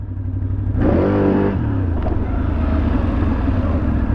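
A QJMotor SFA1000 motorcycle engine revs up sharply at one-third throttle for about a second, then settles back to a steady, rumbling idle close by.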